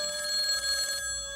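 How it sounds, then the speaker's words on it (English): A telephone bell rings in a steady electronic trill, loud and close, with no voices, then cuts off partway through as only a faint hum remains. "heard the phone ring, but didn't answer it"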